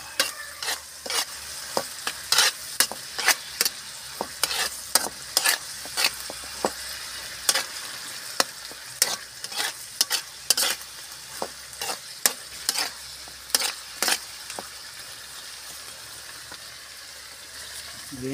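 Vegetables and santol stirred and fried in a pan, with a steady sizzle beneath repeated sharp scraping strokes of a utensil against the pan in an irregular rhythm, close and fairly loud, no talk.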